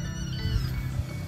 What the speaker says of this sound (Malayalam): ഡാഡിയുടെ വീട്ടിലെ പൂച്ച.